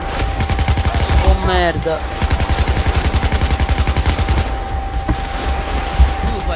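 Rapid automatic gunfire from a Payday 2 jewelry store heist, a dense sustained burst of shots with a brief pause, under a voice speaking and a faint steady tone.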